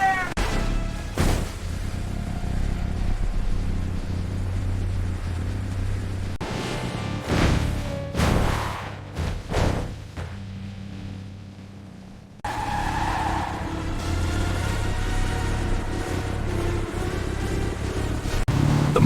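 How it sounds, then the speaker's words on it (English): A monster truck races through a tunnel with sparks striking the walls, its engine roaring loud and near with skidding tire squeals, a brief drop around the middle before the rumble surges back. "The monster truck follows the tunnel, sparks hitting walls with exaggerated cartoon physics"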